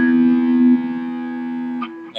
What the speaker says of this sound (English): But then I want to switch to a distortion.